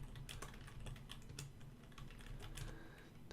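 Rapid keystrokes on a computer keyboard while entering commands into an Infocom text adventure, a quick irregular patter of clicks with no talking.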